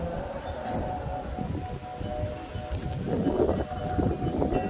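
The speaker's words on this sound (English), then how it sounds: "it is so windy." Strong gusts of wind buffet the microphone outdoors on Guam, a steady broadband roar that swells louder toward the end with no voices.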